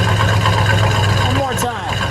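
A 1971 Plymouth Road Runner with a 340 V8 and four-speed idles with a steady low rumble, then gets one quick rev that swells and falls away, close by with a voice speaking over it.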